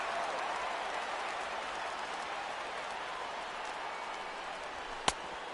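A baseball stadium crowd reacting after a foul ball, a broad sustained roar and murmur of many fans with scattered clapping, steady and fairly loud, with one sharp crack near the end.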